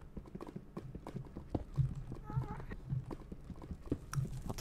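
Horses in the Minecraft video game, a faint steady clip-clop of hooves in a regular rhythm with occasional soft game noises, heard under quiet background talk.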